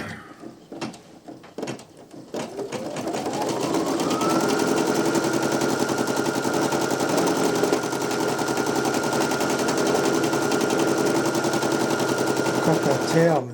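Brother PE900 embroidery machine stitching a custom design: a few clicks and knocks, then the motor winds up into a steady, rapid, rattling lockstitch hum that runs on evenly and close up.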